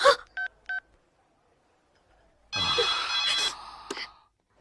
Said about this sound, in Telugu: అన్నకు ఫోన్ చేసి ఇస్తాను